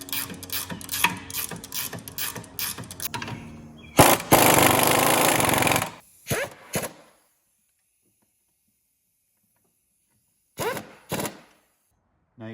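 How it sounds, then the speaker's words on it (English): A ratchet wrench works on the suspension of a Nissan Maxima, giving a run of quick clicking strokes. A harsher burst of mechanical noise follows, then silence broken by a few short, separate clicks. "So I'll be using a ratchet wrench."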